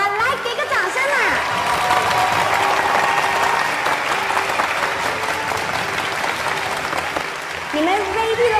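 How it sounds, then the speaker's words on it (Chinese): An outdoor crowd claps steadily before a 500-metre sprint race, a dense, sustained burst of applause with cheers, voices audible at the start and end. "来给个掌声啊"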